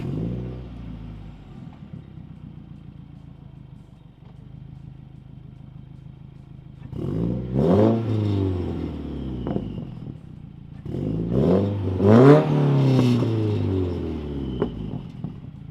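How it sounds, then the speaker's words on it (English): An idling Subaru WRX engine rumbles, then two bursts of revving swell and fall, the exhaust note rising sharply each time before dropping back. "Can we get a little exhaust note? Yeah, definitely. Start it up for us."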